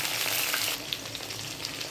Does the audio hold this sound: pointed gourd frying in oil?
yes